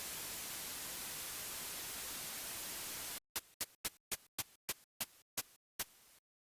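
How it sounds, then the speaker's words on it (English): Steady white noise hiss from a synthesizer oscillator's noise wave for a few seconds, then cut into a series of short, sharp noise bursts in a quick rhythmic pattern. "I'm going to use 3x oscillator's noise wave as the sound source"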